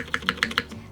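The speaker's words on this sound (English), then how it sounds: "Exploded isolated spacebar slaps" Isolated spacebar presses on a Norytek70 mechanical keyboard with no foam: four crisp, evenly spaced thocking slaps close up, then silence.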